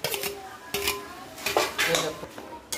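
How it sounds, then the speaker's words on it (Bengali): Dishes and utensils clatter as mashed potato and carrot are mixed with spices in a pan for pav bhaji, giving repeated sharp scraping and knocking strokes at close range. "এবার আমরা ম্যাশ করে রাখা আলুটা আর গাজরটা দিয়ে দিচ্ছি। আমরা সুন্দর করে এটাকে মশলাটা দিয়ে মিশাবো।"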